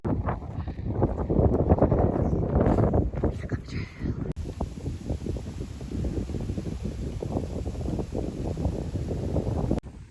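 Strong, cold wind on the Appalachian Trail buffets the microphone with a constant rough roar and gusty rumbles, and a person talks underneath it.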